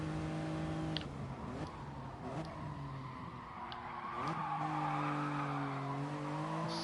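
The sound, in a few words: car tyres skidding in GT Sport video game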